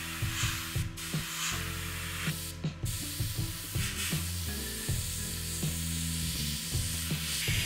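Mr. Surfacer 1500 Black primer is sprayed onto a 1/48 Tamiya Corsair F4U-1D model kit, a steady close airbrush hiss under a backing of quiet music.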